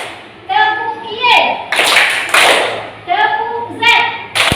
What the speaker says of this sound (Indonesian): Kalau ibu katakan tepuk Z, ya, berarti ke atas 3 kali.